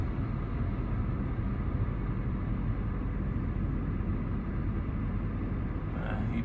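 A Peterbilt truck with an oversized load backs up slowly, giving a low, steady engine rumble that stays even and continuous from start to finish.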